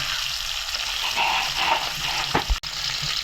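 Fish sizzles in hot oil in a home kitchen pan, a steady watery crackle that continues the whole time, with a brief knock or clatter just before the end.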